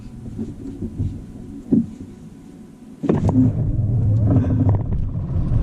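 A Tesla Raven launching on rear Mickey Thompson tires that spin, first a low idle rumble with a brief thump, then a sudden loud surge of broadband tire and drivetrain roar that holds steady to the end.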